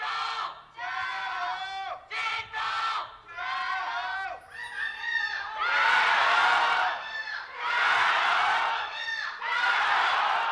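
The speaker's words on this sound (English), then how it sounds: "They found the loudest Rogue Warriors fan possible to scream back at him." At an LPL esports match between Rogue Warriors and JD Gaming, an arena crowd yells and cheers loudly in swelling bursts, with earlier stretches of voiced shouting that rise into broad, roaring crowd noise.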